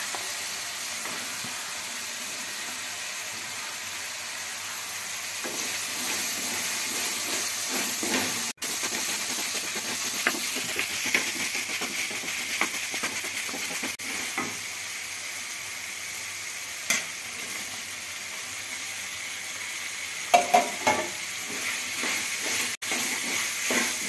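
Sambar vegetables (drumstick, carrot, beans and broad beans) frying and being stirred in a pan, a soft continuous sizzle and hiss with occasional scrapes and clicks, no talking.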